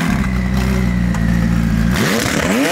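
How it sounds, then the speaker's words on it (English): A loud, close McLaren 600LT engine with an aftermarket exhaust holds a deep, throaty idle, then revs sharply upward and crackles through a raspy exhaust; no talking. "Sounds like he's got an exhaust in the 600LT."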